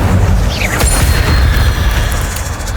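A loud, booming burst from an Incendio fire spell in Hogwarts Legacy erupts at once and trails off over a few seconds, with no speech.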